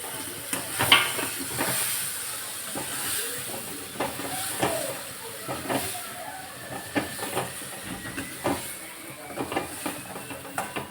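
Eggs hiss and sizzle in spiced masala in a hot pan, a steady close sizzle broken by sharper spits and crackles.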